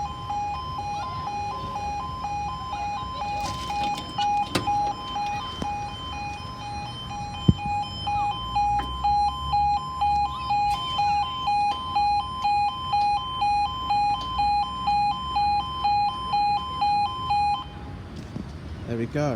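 Level crossing warning alarm at Oakham Station in Rutland, a loud two-tone electronic yodel repeating in a steady rapid rhythm for most of the recording, with a person talking and passing sounds underneath before it cuts off near the end.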